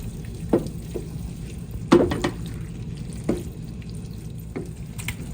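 Cooked macaroni being mixed into a hot skillet, a low steady sizzle punctuated by several distinct spoon scrapes and clatters, close with no voices.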